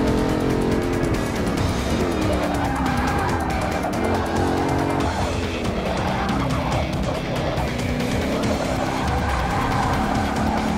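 A car drives and skids in the Forza Motorsport 6 racing game, with constant loud engine drone and tyre squeal filling the whole stretch without pause.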